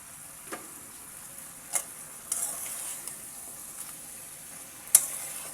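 Rohu fish curry with flat beans, potato and tomato being stirred and fried in a pan, a faint steady sizzle broken by a few sharp spatula clicks and scrapes.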